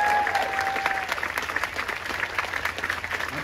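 A crowd at an outdoor gun-safety march applauds the organizers with loud, dense clapping that peaks at the start and then rolls on in uneven waves.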